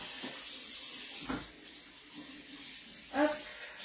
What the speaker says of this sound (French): je rince toujours mon poisson